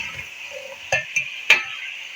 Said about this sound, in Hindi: अच्छी तरह से हम इसको फ्राई कर लेते हैं, ताकि इसका कलर जो है वो चेंज हो जाए